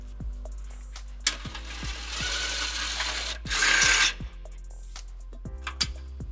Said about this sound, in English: we can use a 12mm socket to get the other 2